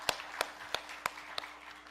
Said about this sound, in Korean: 우리 갈리디 성가대를 위해서 한번 박수로 격려해 주시겠습니다